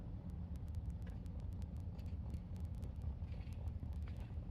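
Drag racing car engine running rough, a low, uneven rumble that holds steady and moderately loud under wind buffeting on the microphone, with no other voices.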